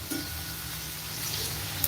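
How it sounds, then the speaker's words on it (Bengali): An egg frying in rice bran oil alongside a chow mein preparation, giving a steady, moderately quiet sizzle and hiss for under two seconds, with no voices. "এই যে ওদিকে ডিম ভাজাটা হোক"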